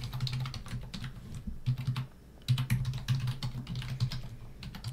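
Computer keyboard typing while writing code, a steady run of quick clicking keystrokes with short pauses, close and fairly loud, with no talking.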